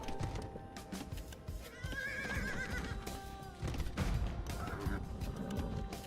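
Horses whinny a couple of times over a busy mix of clopping hooves and sound effects from Age of Empires II, fairly loud and continuous.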